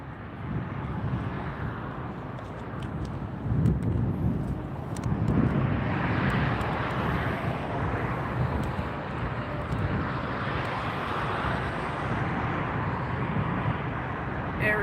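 A Southwest airliner arriving on runway 19 left at Tampa Airport, its engines a steady broad roar that swells and lingers throughout, with wind noise and no talk.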